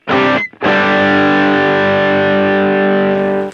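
Compressed electric guitar tone for worship music, a short chord cut off after half a second, then a sustained ringing chord that holds loud and even for about three seconds with no voice.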